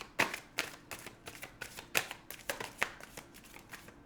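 Tarot cards riffle and snap in quick, rhythmic bursts, close and fairly quiet, with no talking.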